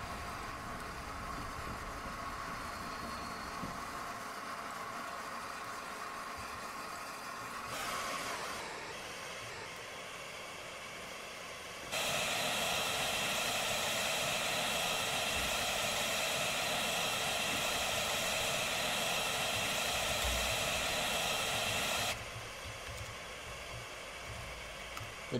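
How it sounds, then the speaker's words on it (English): A steam locomotive in Train Simulator 2021 on a Mid-Devon route, the Tornado, idles with a steady engine rumble and a broad, continuous hiss that swells much louder for about ten seconds mid-stretch, then drops back. "With a steam locomotive."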